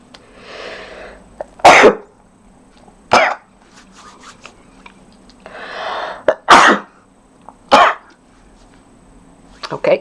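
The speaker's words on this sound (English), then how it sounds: "I'm going to sneeze." Several sharp sneezes and throat sounds from a person crafting at a table, loud and close, scattered through the stretch with breathy gaps between them.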